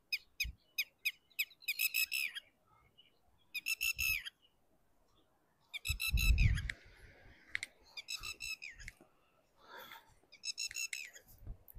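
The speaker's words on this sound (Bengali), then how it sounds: "বিভিন্ন পাখির ডাক" Assorted wild birds calling in Puga Valley near Gorubathan, Kalimpong: bright repeated whistles and chirps in bursts, with a short lower rustling thump partway through, fairly near against a quiet background.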